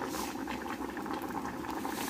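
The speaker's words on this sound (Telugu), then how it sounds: "మనం పప్పు ఉడికించుకుంటున్నాం కదా" Dal boiling in a pot with cucumber pieces added, a steady bubbling simmer close by with a constant wash of small pops, no voices.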